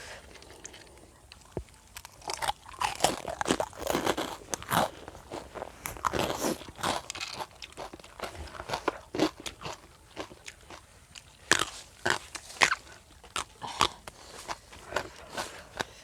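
Crunchy chewing while eating Thai papaya salad with pickled crab, close to the mic, with a steady stream of irregular bites and crackles over about sixteen seconds and no talking.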